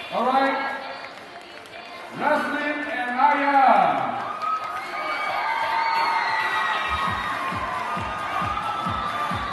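Applause and cheering from a cosplay competition crowd, a wash of claps, whoops and shouts with an announcer's voice over it, swelling and then holding steady.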